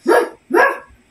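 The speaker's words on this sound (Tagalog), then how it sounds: "Dog." A dog gives two loud, close barks in quick succession, each short and sharp, followed by silence.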